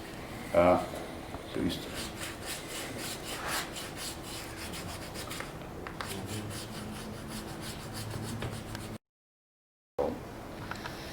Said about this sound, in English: get different sandpaper grit, and this works excellent for the final finishing.